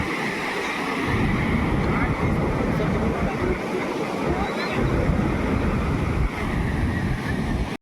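Sea waves at Chandrabhaga beach in the early morning roll in as a continuous loud roar of surf, mixed with gusty wind buffeting the microphone.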